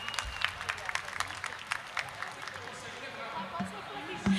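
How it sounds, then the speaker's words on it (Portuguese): Scattered clapping from a small group, uneven and fairly light, trailing off as room noise and a few knocks take over. "Palmas para Sara, que aula!"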